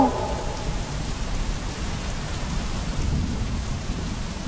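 Heavy rain with rolling thunder in an animated cartoon about a village flood: a dense, continuous roar of downpour with low rumbling underneath, loud and steady throughout with no voices.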